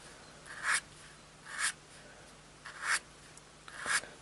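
A Faber Castell Pitt pen with a 1.5mm bullet nib draws on Somerset velvet paper, four short, faint scratchy strokes spaced about a second apart against a quiet background.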